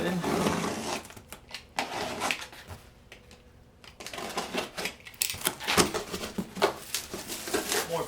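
A knife slices open the heavy cardboard shipping box of a Gweike Cloud 50 watt desktop laser cutter in a series of scraping, tearing bursts, broken by a short quiet pause midway.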